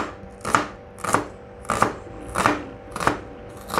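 A knife chops through onion on a cutting board in six crisp, evenly spaced strokes, each a sharp close thud, with no talking.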